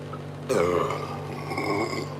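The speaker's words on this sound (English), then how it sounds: "I need to burp so bad" A single long, loud burp from a man in a forge workshop, breaking abruptly out of near quiet and rumbling on for over a second.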